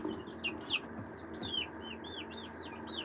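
A small flock of chickens near a chicken-wire pen makes high chirping peeps and soft clucks in quick repeated bursts, moderately close over a steady low outdoor background.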